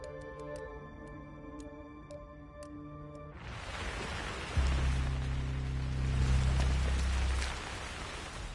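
Heavy rain in the video game Hitman 3 swells in after a soft musical intro, a dense steady hiss of drops on surfaces with a low rumble beneath, loud and continuous to the end.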